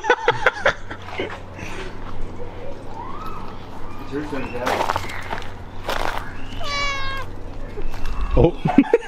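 A person imitates a cat, voicing a drawn-out meow up close. Other voices and brief noises sit around it.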